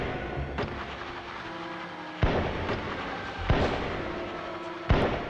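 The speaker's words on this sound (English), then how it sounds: "A few flares should light my path." Flares fired in the video game Atlantis: The Lost Empire: a faint early pop, then three sharp, loud bangs spaced about a second apart, each leaving a brief fading tail over a low background.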